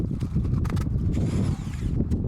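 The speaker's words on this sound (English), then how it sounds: "Fill a bucket of water and just turn your drill" A drill spins a paddle mixer in a bucket of water to clean it after plastering, making a short, close churning slosh with a low mechanical rumble.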